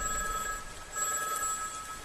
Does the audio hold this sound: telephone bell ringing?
yes